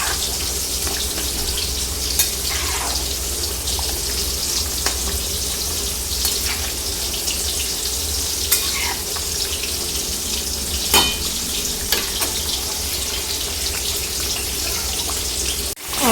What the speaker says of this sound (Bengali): ওখানে ভেজে রাখা বড়ি, তারপরে দিয়ে দিচ্ছি ভেজে রাখা করলা